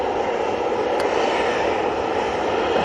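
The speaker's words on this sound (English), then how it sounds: "Beautiful A320neo in the new livery." An SAS Airbus A320neo jet roars steadily at an airport, a loud constant engine rush with no break.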